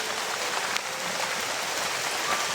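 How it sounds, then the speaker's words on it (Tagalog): Steady rain pours down with a dense, even hiss and scattered drop impacts, continuous and fairly loud, with no voices. "Sigig ulan."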